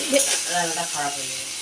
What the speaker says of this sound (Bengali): আলুগুলো দিয়ে আমি একটু ভালো করে ভাজে